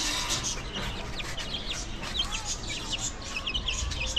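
Chickens in a coop cluck and call close by over a constant bed of background noise, joined by faint chirps from other birds.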